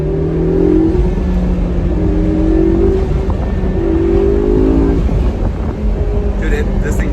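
Stock-exhaust car engine revving close by, with several rising, loud pitch sweeps over a constant low rumble, repeating in a few bursts.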